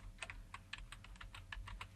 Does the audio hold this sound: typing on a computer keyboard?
yes